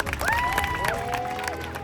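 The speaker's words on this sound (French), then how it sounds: "Je vous demande d'applaudir bien fort" A concert audience at the Alhambra cheers and claps for a performer being introduced, with a prominent sustained shout or whoop rising above a busy layer of crowd noise and scattered clapping.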